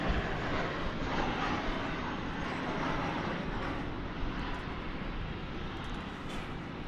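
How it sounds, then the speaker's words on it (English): Jet airliner arriving from Los Angeles touching down at DFW Airport at night, a broad distant engine roar holding steady and slowly easing, with no talk. "A plane from Los Angeles just touching down now"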